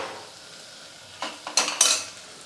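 Chopped onions and curry leaves fry in a pan for a Tamil breakfast dish, with quiet sizzling and a few sharp metallic clinks of a spoon stirring against the pan near the end.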